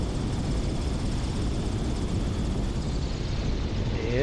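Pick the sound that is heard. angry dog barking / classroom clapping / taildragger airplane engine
taildragger airplane engine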